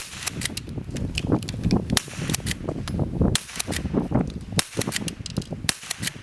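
A Remington 572 Fieldmaster rifle fires a string of sharp, loud cracks and clicks at an uneven, fairly quick pace, close to the listener and with no talking.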